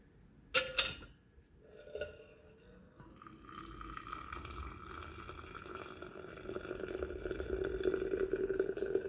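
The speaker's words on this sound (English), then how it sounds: "And then you just pour it up with hot water." A couple of clinks, then a steady stream of hot water pouring into a cup for herbal tea, the filling sound rising gradually in a quiet room.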